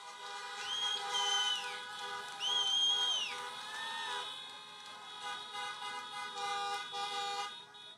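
Several car horns honk in overlapping, sustained toots at a drive-in political rally, some rising and falling in pitch, over a steady crowd-like background.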